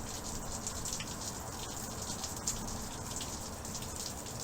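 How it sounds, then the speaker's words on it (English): Steady rain falling outdoors, a dense continuous hiss with faint scattered drops, even and unbroken throughout, with no voices. "It's all raining outside."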